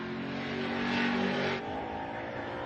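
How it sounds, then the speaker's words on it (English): A Commodore race car on track at Morgan Park Raceway, its engine revving hard and swelling as it passes, then dropping to a lower steady drone, with no voices. "you can definitely hear that race car on track"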